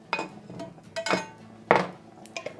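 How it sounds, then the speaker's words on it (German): A small frying pan is handled in a home kitchen while making a vegan dish, giving a few scattered metallic clanks and knocks close by with quiet gaps between them. "Dann nehme ich eine kleine Pfanne"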